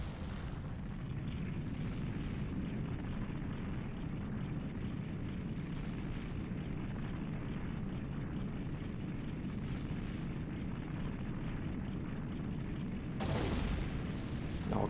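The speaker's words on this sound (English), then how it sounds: "It all comes crumbling down, and the rock shooting out of the entrance too. The explosions." A castle collapses during the finale of The Legend of Zelda: Ocarina of Time, a long, steady low rumble of crumbling rock that swells into a sharper explosive burst near the end.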